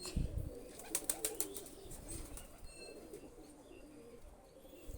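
Pakistani high flyer pigeons, a male and a female, coo quietly while wings flap in short bursts near the start, followed by fainter murmuring calls.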